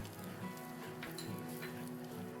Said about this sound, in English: To the garlic infused butter, we'll add the chilies and the black pepper to bring the heat.